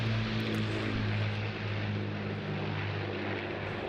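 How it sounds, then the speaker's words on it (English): Battle of Britain Memorial Flight aircraft passing at an airshow, Rolls-Royce Merlin piston engines giving a deep, throaty propeller drone that fades and shifts in pitch as the planes move away. "Just listen to the sound of the Merlin engines"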